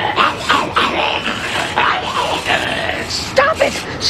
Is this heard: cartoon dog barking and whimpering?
yes